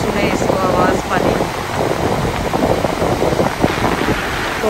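Steady sea waves and gusting wind at the Sea View beach in Karachi, a loud continuous wash of surf and wind buffeting the microphone, with faint voices mixed in.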